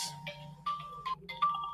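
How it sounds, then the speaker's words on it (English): A burner phone rings alone, its electronic ringtone sounding in short, evenly spaced tonal bursts with brief gaps between, quiet and close. "when I call the number, my burner phone rings."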